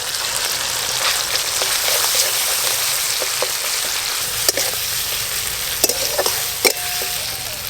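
Masala with cumin paste, tomato and green chillies stir-fried in mustard oil, a steady loud hissing sizzle with occasional sharp clinks of a spatula against the pan near the end, close up and without speech.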